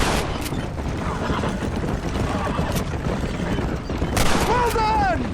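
Gunfire in the video game Red Dead Redemption, loud bursts of shots over a dense, continuous layer of game noise, with a horse whinny and other sounds mixed in.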